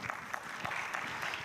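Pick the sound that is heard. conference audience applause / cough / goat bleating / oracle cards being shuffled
conference audience applause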